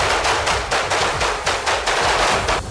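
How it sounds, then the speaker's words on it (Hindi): Rapid automatic gunfire from soldiers during a large military drill: loud, sustained bursts of shots in a steady, rolling rhythm, close and unbroken with no voices. "दोनों देशों के सैनिक एक के बाद एक ताबड़तोड़ फायरिंग करते दिखाई दिए"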